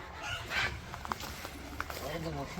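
Village chickens clucking softly nearby on a cold winter morning while they are given water, a few short clucks under people talking.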